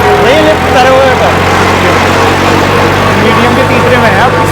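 A John Deere tractor works a field with a cultivator, its engine holding a steady, loud drone throughout while someone talks over it.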